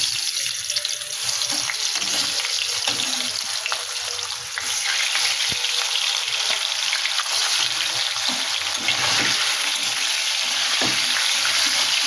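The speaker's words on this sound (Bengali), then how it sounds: "এইবারে এই মাছগুলো অল্প অল্প করে ভেজে নেব" Salted pieces of shankar fish (stingray) frying in hot oil in a pan, a loud, dense, continuous sizzle close up with a few small pops, no talk.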